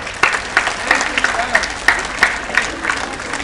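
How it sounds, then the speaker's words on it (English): Students at an Indian school assembly applaud, a light, patchy burst of clapping in a large room. Individual claps ring out unevenly under a crowd murmur. "Can we give each other an applause?"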